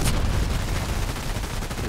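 Dense gunfire from a first-person shooting game on the Old Sawmill map, a loud continuous barrage of overlapping shots and booms with no talk.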